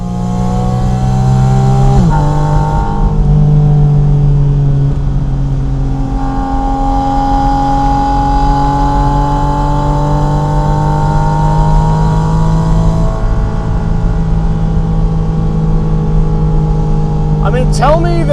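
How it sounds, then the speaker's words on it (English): Porsche Spyder RS on the move, its mechanical engine note and exhaust tone droning loud and close, with rising and falling pitch through gear changes and a sharp rev burst at the end. "a very nice mechanical engine sound plus a nice exhaust tone"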